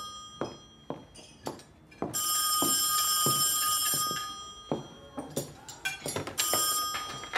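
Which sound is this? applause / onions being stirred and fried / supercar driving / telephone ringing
telephone ringing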